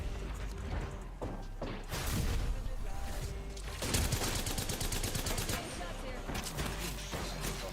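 Rapid bursts of automatic gunfire rattle through a busy video game firefight, with clattering mechanical sounds and a voice talking over the shooting.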